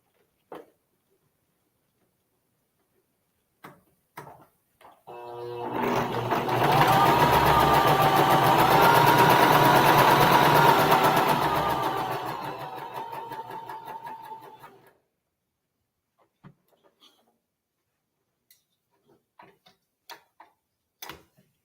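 A sewing machine runs steadily for about nine seconds, stitching quilt-block fabric, with a whirring hum that swells and then fades away, while a few soft clicks and taps are heard before and after.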